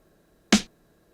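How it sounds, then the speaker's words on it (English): A single combined snare drum hit layered from several percussion sounds, a crisp, bright crack with a quick decay, played alone. "this multi-sound I'm using as a snare drum in the drum rhythm"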